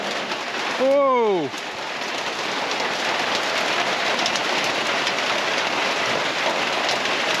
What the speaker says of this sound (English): Got out in the rain again.